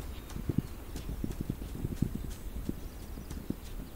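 Horse hooves clip-clopping in a video game, a brisk irregular run of hoof strikes at moderate distance over faint ambient rustle, with no talking.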